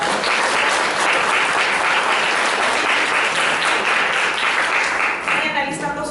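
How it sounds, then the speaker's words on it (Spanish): Audience at a university literature event giving strong applause, a loud, even wash of clapping that holds steady and thins out toward the end. "un fuerte aplauso para..."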